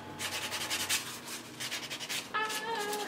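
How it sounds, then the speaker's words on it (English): Steady back-and-forth rubbing of sandpaper on a surface, rhythmic strokes up close, with no talking. "Then I kept sanding until I decided to quit for the night."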